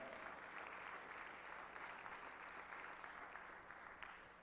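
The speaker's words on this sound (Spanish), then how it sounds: "denle un aplauso al Señor por eso" Sustained applause from a church congregation during a Spanish-language sermon, a steady wash of many hands clapping at moderate, slightly distant level with no voices over it.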